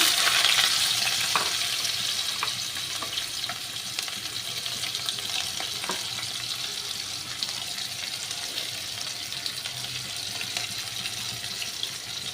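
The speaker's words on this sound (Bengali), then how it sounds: "কালো জিরেটা একটু ভাজা হলে আমি পেঁয়াজগুলো দিয়ে দিলাম" Onions frying in hot oil with nigella seeds give a steady, close sizzle and hiss that runs without a break for the whole stretch, easing slightly after the first second, with no talk.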